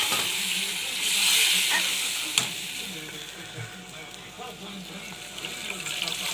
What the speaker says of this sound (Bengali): এবার আমি এর মধ্যে জল দিয়ে দেবো।